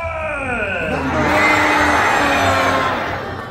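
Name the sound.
theater audience screaming "Ah!" with hands in the air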